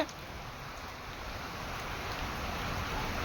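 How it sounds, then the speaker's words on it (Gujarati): Continuous rain patters down, a dense even hiss of drops with no talking. "વાવણી લાયક સારો વરસાદ થઈ ગયો છે અને હજી પણ ચાલુ છે"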